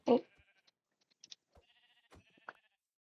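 A Minecraft sheep bleats once, close and clear, followed by sparse soft clicks and faint game-like tones in otherwise quiet surroundings.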